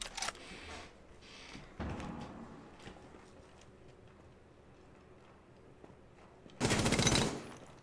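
Gunfire in the tactical shooter Rainbow Six Siege: a short burst near the start, a loud thump around two seconds, then a dense, loud volley of rapid shots near the end over quiet game ambience.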